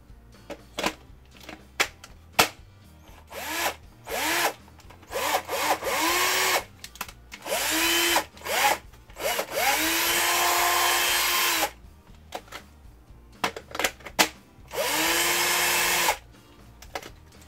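A Bosch cordless drill-driver, its battery rebuilt with rechargeable AA cells, whirs in repeated bursts, some short and some sustained, with pauses between runs and a close, loud motor whine.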